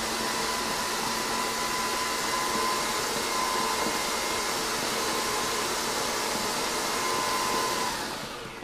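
Electric mixer beating pink cake icing at full blast, a loud, steady high-speed whir that runs unbroken for several seconds and tapers off at the end.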